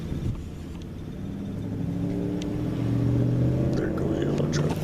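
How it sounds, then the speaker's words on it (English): A yellow truck drives past, its low engine rumble swelling gradually as it approaches, with faint voices in the background. "There goes the yellow truck."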